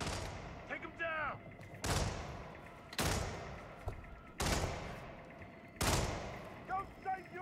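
Gunfire in the video game Hitman Professional, a squad mission against Colorado freedom fighters: five loud, sharp shots or short bursts spaced about a second apart, with brief voice fragments between them.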